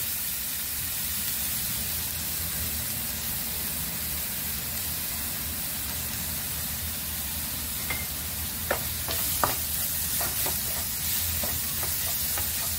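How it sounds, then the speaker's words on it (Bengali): Spice paste with turmeric and a little salt fries in a pan, giving a steady close sizzling hiss throughout, with a few sharp pops and stirring clicks toward the end. "আবার এটা ভাজা ভাজা করব।"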